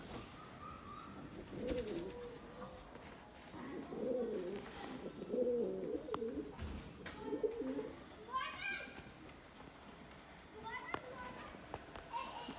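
Pigeons coo softly after their bath in a loft, with faint bird calls and children's voices mixing in the background at low volume.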